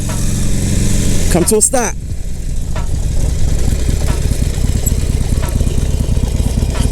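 A motorcycle engine runs at a steady idle, making a low, continuous rumble close by. A man gives instructions over it, and a brief higher rev flutter comes early on.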